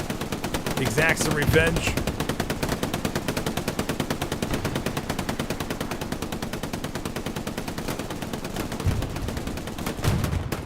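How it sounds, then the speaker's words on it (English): MG42 machine gun in Hell Let Loose at Omaha Beach, a continuous rapid rattle of fire running nearly unbroken, close and loud, with a commentator talking over it. "MG42 action from Splitty."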